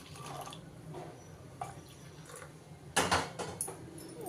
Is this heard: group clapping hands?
no